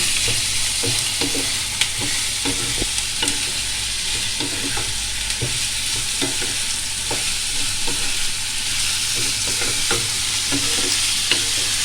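Vegetables for chicken spring rolls stir-fried in a pan: a steady sizzle with repeated scraping strokes of a spatula at an uneven rhythm, close and fairly loud, with no talking.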